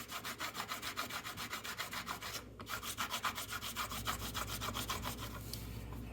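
A Bright Boy abrasive block rubs back and forth over a model railroad 90 degree rail crossing from a Diamond Line kit, giving a steady rhythmic scrubbing of about two strokes per second, close and clear.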